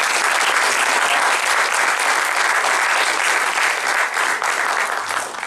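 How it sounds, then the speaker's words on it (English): An audience at a startup graduating ceremony gives sustained, loud applause for seven graduating companies, a thick continuous wash of clapping that holds steady throughout. "Let us give a big hand of applause to these 7 companies"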